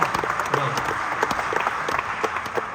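An audience claps in a steady ripple of scattered hand claps, moderately loud throughout, with a voice murmuring faintly beneath it.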